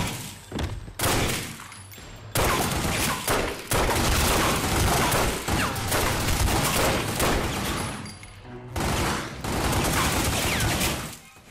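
A heavy firefight in The Godfather video game: dense, loud gunfire with overlapping shots and booming thuds pours on almost continuously, dropping briefly a few times before resuming.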